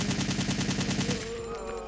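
A Resident Evil 3 machine gun fires a rapid, evenly spaced burst of about a dozen rounds at moderate volume, then stops as a faint electronic tone lingers.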